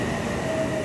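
A local train moving in Tokyo, Japan, a brief steady rolling rumble with a thin tonal whine over it, with no one speaking.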